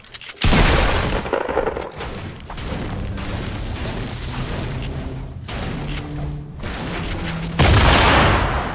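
A grenade blows up in Fortnite with a sharp, loud blast, followed by rattling gunfire and clatter, then a second heavy boom near the end.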